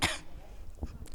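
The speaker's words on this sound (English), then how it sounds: "Should I cough for effect?" A single short, close cough or throat-clear opens, followed by faint room noise and soft rustling.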